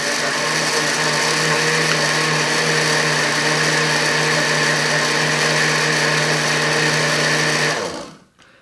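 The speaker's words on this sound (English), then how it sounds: "that looks as though that's all blended nicely" A blender whirs steadily, mixing coquito, a Puerto Rican coconut eggnog Christmas cocktail, with a loud, even motor drone that runs for nearly eight seconds before cutting off abruptly. No voices are heard.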